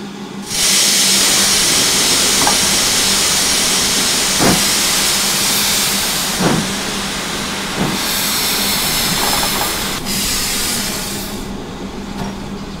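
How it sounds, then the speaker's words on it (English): A train being pushed backwards into a station platform gives off a loud continuous hiss of steam that runs almost the whole time, with a few sharp knocks and clanks of rolling stock rising out of it, and no voices. "Give the train a push into the platform."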